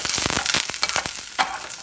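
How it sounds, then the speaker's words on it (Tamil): Garlic and curry leaves hit hot oil with a loud, dense crackling sizzle, full of sharp pops close up for a brief moment. "பூண்டு ஆட் பண்ணிக்கோங்க."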